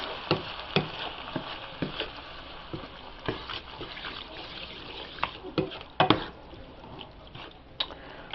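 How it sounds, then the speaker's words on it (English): Canned tomatoes are stirred into a pasta sauce in a pan, with a soft continuous sizzle and wet scraping, spoon clicks and knocks against the pan, close by and without speech. "So stir in your tomatoes."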